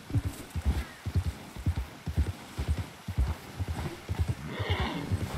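Horse hooves clip-clop at a steady trot in the video game Red Dead Redemption 2, close and clear, with a whinny near the end and no talk over them.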